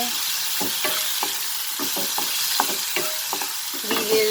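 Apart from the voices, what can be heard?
masala spices sautéing in pan over medium flame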